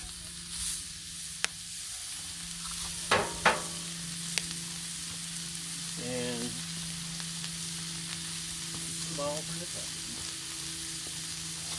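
Bacon and a breakfast sandwich fry on a Blackstone griddle, giving a loud, steady sizzling hiss throughout, with a few sharp clicks and brief scraping sounds and short bits of speech.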